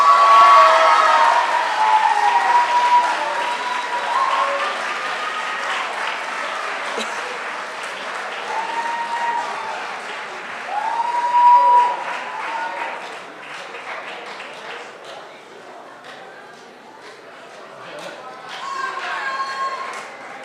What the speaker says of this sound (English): Please give a round of applause for Aurora Bird.